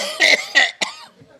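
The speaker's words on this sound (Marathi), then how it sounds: "एवढा खोकला येतोय" A man coughs three times in quick succession at a theatre, sharp and close, with a short wheezy throat sound trailing after.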